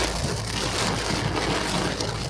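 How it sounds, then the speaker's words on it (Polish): Heavy rain pours down on a car driving through a storm in Slovenia, a dense, steady hiss of drops drumming on the body and windshield with no talk. "No i dojechaliśmy z tą ulewę."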